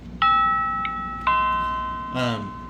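A home security alarm system sounds two bright electronic chimes, each a sustained multi-tone ding like a doorbell, followed by a brief burst of speech over a quiet background hum.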